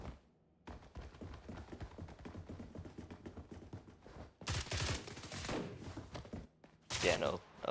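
M16A2 rifle gunfire in the Roblox shooter BRM5 comes as quick, close cracks in rapid strings, then two louder dense bursts of shots, with a voice partly mixed in.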